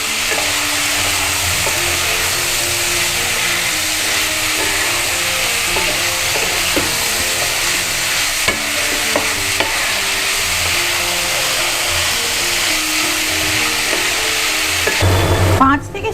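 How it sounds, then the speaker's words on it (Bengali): Vegetables with spices are stirred and fried in hot oil, giving a loud, constant sizzle with frequent scraping stirs of a spatula against the pan, and a faint voice now and then. "এইভাবে নাড়াচাড়া করে সবজিগুলোকে একটু ভাজা ভাজা করে নিতে হবে"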